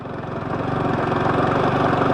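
Yamaha R15 motorbike engine climbing a hill in second gear on a rough road, a steady, loud, close buzzing drone that rises slightly in level and holds an even pulse throughout.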